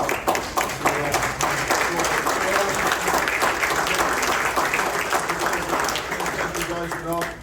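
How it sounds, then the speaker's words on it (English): A round of applause at a Lansing village board meeting, sustained clapping from a roomful of people that stays loud and even throughout. "But I gotta give one more round of applause."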